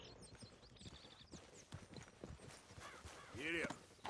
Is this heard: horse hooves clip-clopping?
yes